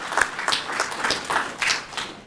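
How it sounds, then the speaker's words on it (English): A graduation ceremony audience gives a short round of applause, scattered claps rising and falling in loose bursts. "So I just want you guys give him a round of applause."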